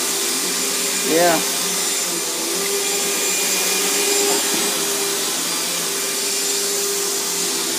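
A Bissell vacuum cleaner runs with a steady, loud motor drone throughout, with a short tonal whine near the start and a brief spoken word over it.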